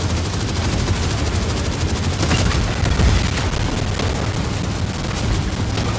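A tank fires in the Ork vehicle combat game Warhammer 40,000: Speed Freeks, a dense, continuous barrage of loud gunfire and booming blasts that holds steady for the whole stretch with no talking.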